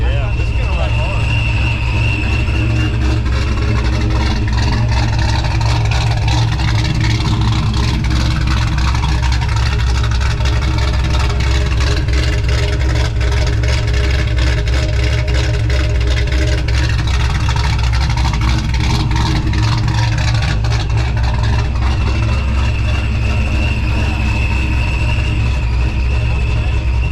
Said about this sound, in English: This is a rowdy ass car, man.